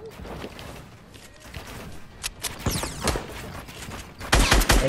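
Rapid bursts of fireworks popping and crackling in an online video game, a dense volley of sharp bangs building louder toward the end, with some faint talk underneath.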